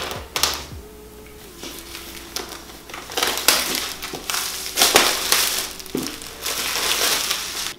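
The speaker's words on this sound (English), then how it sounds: "So we are going to start by just pulling this tab down" Plastic protective film is peeled by its tab off a brand-new base-model 2020 13-inch MacBook Pro, giving close, crackly crinkling and tearing bursts in an irregular rhythm with no talking.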